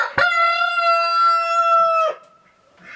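A rooster in a backyard chicken coop lets out one loud, close crow lasting about two seconds, then falls silent.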